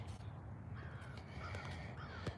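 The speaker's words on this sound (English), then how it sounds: "we got crows out here started making noise" Crows caw outdoors in a few short calls against a steady background hum, moderately distant and fairly faint, with no one talking.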